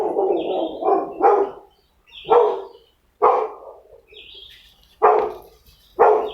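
Several sharp barks from neighbouring dogs come in bursts with pauses between them, moderately loud and a bit distant, with faint bird chirps in the background.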